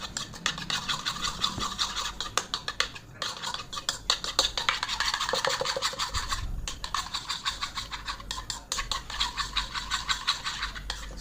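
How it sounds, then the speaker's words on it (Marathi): Thick curd (yogurt) being whisked for a salad, a fast steady scraping and clinking of a whisk or spoon against a bowl that runs continuously and close up without any talk. "घट्ट दही घ्यायचं आहे थोडंसं. त्याला छान फेटून घेतलं."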